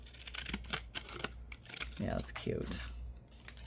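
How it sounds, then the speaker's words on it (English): Small decorative scissors snip paper for a junk journal, giving several quick, close cutting sounds. A woman makes a brief remark while they cut. "since I've got these pretty little scissors out, I'm just going to use them"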